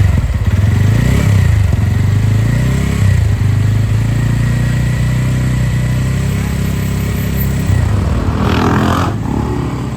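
A 2024 TVS Ronin 225 motorcycle engine runs steadily at close range with a loud, continuous low mechanical drone, rising briefly in a throttle blip near the end, with no talking.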